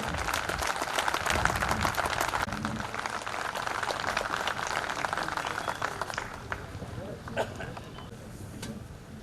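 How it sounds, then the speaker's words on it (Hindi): Applause at a trade union workers' conference in Nagda, a rough, crackling crowd clapping with wind-like noise and low rumble, loudest early and gradually fading, with voices mixed in. "आप सभी तालियों में कमी मत लाइए।"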